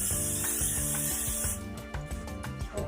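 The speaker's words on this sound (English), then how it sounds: "all I have to do is just spray it with cooking oil." A short hissing spray of cooking oil onto a preheated pan for about a second and a half over a background of music, followed by faint clattering.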